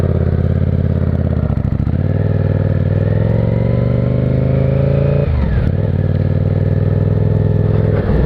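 A motorcycle ridden on the road after passing its MOT, its engine loud and close throughout, with a rising pitch through the gears, a brief dip at a gear change, then pulling again.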